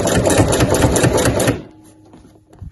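Sewing machine driving heavy thread through several layers of a weekender bag's exterior pocket, a loud, fast rattling run of stitching that stops abruptly, leaving faint handling noises.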